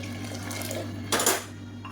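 A brief metallic clink and scrape of a spoon stirring a pot of black rice and ragi porridge with added water, close by, over a low steady hum, with no voices.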